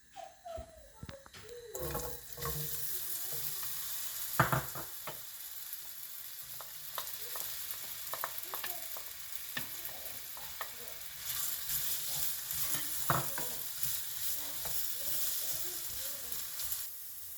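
Potatoes and onion fry in hot oil in a frying pan for a baked Spanish omelette, a steady close sizzle running throughout with occasional stirring clinks and scrapes, no voices.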